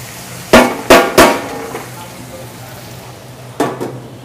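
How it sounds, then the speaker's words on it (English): Onions hit a hot pan and start to sauté. Several sharp clattering hits come up close over a steady low sizzle, with no one talking. "Then I'm going to throw in some onions."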